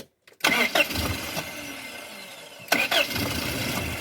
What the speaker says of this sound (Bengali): আবার স্টার্ট করেন,